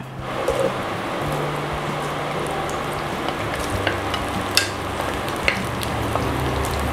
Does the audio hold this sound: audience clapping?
no